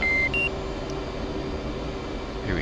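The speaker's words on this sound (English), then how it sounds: "I don't know what the beeping's for" Cockpit warning tones in an F/A-18C in the DCS flight simulator: a couple of short electronic beeps near the start over a steady low hum of engine and air noise, with no talking.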